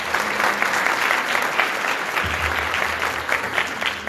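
A church congregation at Sunday worship breaks into sustained, even applause, a dense crowd of clapping hands filling the whole stretch at steady volume.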